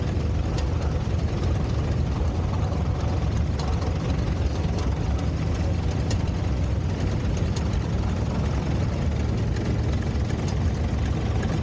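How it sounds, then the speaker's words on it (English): A 1953 Case DC4 tractor rated at 45 horsepower runs at a show, its engine a steady low rumbling idle with a faint rhythmic knock, continuous and fairly close. "John is driving a 1953 Case DC4, rated at 45 horsepower."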